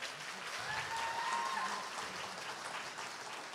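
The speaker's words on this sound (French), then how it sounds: "On peut les applaudir bien fort." Steady applause from a church congregation at a baptism service, sustained and fairly even throughout, with no break or voices standing out.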